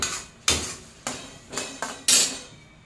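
A spatula strikes and scrapes a metal pan in six sharp, ringing clanks over a few seconds while paneer sabji is stir-fried, each knock trailing into a brief sizzle.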